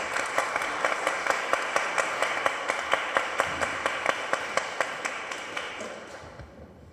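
An audience at a book launch in Peru clapping to welcome a speaker, a crisp, regular beat of sharp claps in a steady rhythm over a wash of applause, fading out toward the end.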